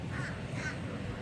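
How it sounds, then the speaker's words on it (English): A seagull picked up by hand at a workplace gives harsh, raspy caw-like calls, close and fairly loud against faint background noise. "So I actually caught a bird"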